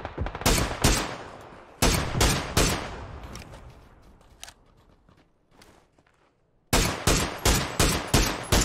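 Bursts of rapid gunfire from an SLR in the game PUBG, loud sharp shots in quick volleys at the start and end with a quieter gap of scattered distant shots between.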